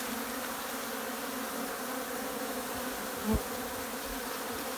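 Bees hum steadily in a large hive hidden inside a joist space of a house. The buzz is a low, even drone that carries on without a break, with one soft knock partway through.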